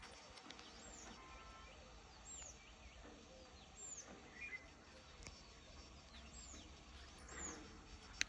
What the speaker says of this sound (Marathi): असं पक्ष्यांचा किलबिलाट चाललेला आहे.